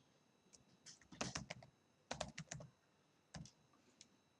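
A computer keyboard is typed on in quick, faint bursts of clicking keys, separated by short pauses, with no voices over it.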